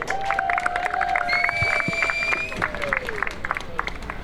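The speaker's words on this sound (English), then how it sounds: "Clap it up for the hardware." Crowd clapping and cheering at a youth football all-stars awards ceremony, dense and steady throughout, with whistles and voices mixed in the crowd noise.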